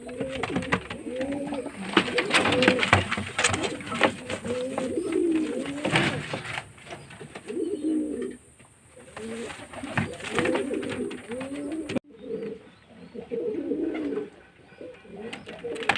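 Pigeons coo in repeated soft, throaty phrases at close range, a near-continuous rolling murmur with short pauses, joined by occasional rustles and small knocks from a pigeon loft.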